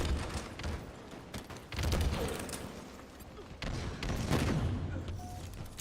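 Gunfire crackles through a video game match in short bursts and scattered shots over a dense, noisy background of rumbling game sound.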